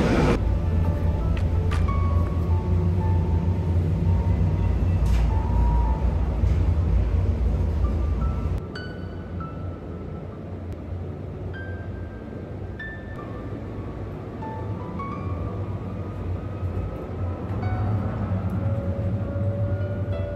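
Inside a quiet passenger train carriage in Canada, the train runs with a steady low rumble and rhythmic track clatter, loud at first and then settling to a softer, even drone.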